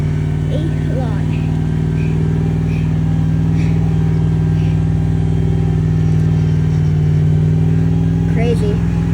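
Lifted off-road vehicle pushing through 6-7 inch deep snow on a trail, a loud steady engine drone with tonal harmonics holding throughout, slight revving, with occasional high squeaks near the end.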